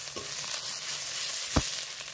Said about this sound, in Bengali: দেখো মশলাটা আমার কেমন ভাজা ভাজা হয়ে এসছে।